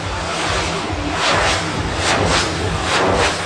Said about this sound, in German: Synchronflug mit Propeller und Turbine.